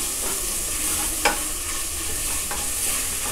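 Chopped onion frying over a high gas flame in a pressure cooker, a steady sizzle with a few scraping stirs of the spoon, close and alone with no talking.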